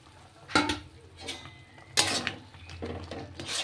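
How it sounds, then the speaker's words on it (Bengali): A spoon scrapes and knocks against a pan while roasted semolina is stirred in ghee, a few sharp clinks and scrapes separated by quieter moments, close by and fairly soft. "এবার এই সুজিটা এর মধ্যে দিয়ে কন্টিনিউ নাড়তে থাকবো।"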